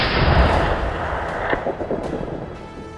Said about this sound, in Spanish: El disparo suena seco sobre el campo mojado.